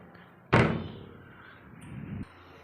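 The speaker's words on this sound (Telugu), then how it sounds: "ఈ డోర్ కూడా అయితే వేసేస్తున్నాం." A house door swung shut with one sharp loud slam, followed by a short low rumble and a fainter thud as it settles, all close by with no talking.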